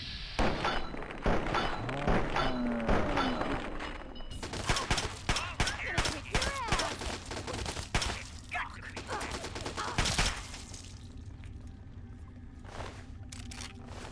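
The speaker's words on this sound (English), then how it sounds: ".10mm SMG, not a great gun in this game" Rapid bursts of 10mm SMG fire against raiders in Fallout 3 crackle loudly and repeatedly, with sustained volleys and shorter clusters of shots and occasional thuds over a continuous background.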